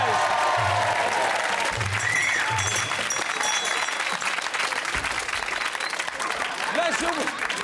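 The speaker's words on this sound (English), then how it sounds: "let's have a big round of applause, a bit of appreciation" A studio audience at a comedy variety show applauds in a loud, sustained roar of clapping, with a voice talking underneath and music-like tones mixed in.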